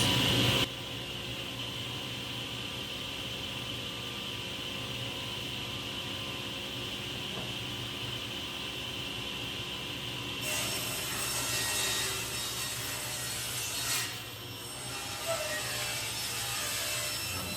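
Wood pieces for a blanket chest ripped to width on a table saw, a steady loud motor whine with a rougher cutting hiss joining midway, continuous and close.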